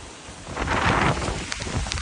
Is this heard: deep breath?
no